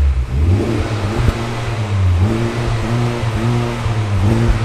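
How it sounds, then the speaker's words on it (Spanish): A Honda Civic Type R with a triple exhaust revs up close by, the engine rising and falling in repeated throaty blips over a few seconds, loud with no talking. "Los tres escapes abajo que le dan un sonido espectacular que vamos a escuchar ahora mismo."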